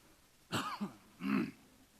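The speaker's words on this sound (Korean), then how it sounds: "감기가 마른 기침이 이렇게 나와" Two short, dry coughs from a man with a cold, a moment apart, close and fairly loud, with quiet around them.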